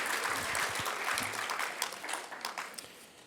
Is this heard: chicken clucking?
no